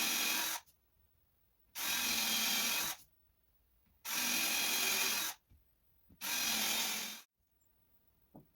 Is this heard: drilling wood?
yes